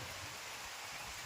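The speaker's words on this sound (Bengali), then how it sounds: "বৃষ্টির আওয়াজটা বেশি শুনতে পাচ্ছেন" Steady, dense hiss of rain falling on a surface, even and continuous throughout with no voices.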